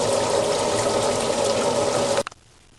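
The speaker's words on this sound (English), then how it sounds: "This is the cold water running." Cold water gushes steadily from a supply line at a GE washer, a loud continuous rushing flow that cuts off abruptly near the end.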